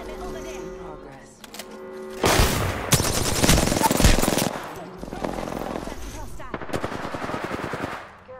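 Automatic and rapid gunfire in Apex Legends, loud dense bursts that start and stop across several seconds, with game sounds between bursts.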